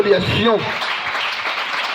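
Clapping from a church congregation rises just as a voice finishes speaking, then carries on as a steady, moderately loud wash of applause.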